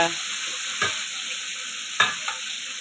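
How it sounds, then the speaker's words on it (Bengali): Fish fries in a pan with a steady hiss of hot oil, punctuated by two or three sharper crackles and spatula clinks, close and alone. "মাছ ভাজা হচ্ছে বন্ধুরা।"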